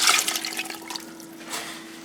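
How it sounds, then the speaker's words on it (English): Beef broth pours into a pressure cooker, a soft, close liquid splash and trickle that is strongest at the start and fades before a brief final pour. "Our beef broth. Get all of it in there."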